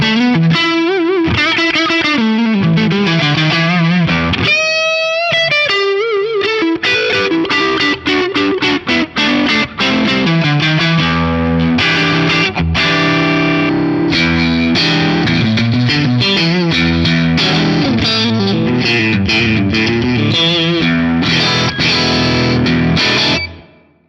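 Electric guitar through an Axe-Fx III Tone of Kings drive with a Fender-style tone, a dense, continuous run of driven chords and fast riffing, loud and close with no talking, cutting off sharply at the end.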